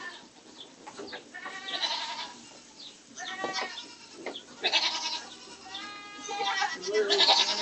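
Several goats bleat again and again inside a barn, their wavering calls overlapping at close range against low background noise.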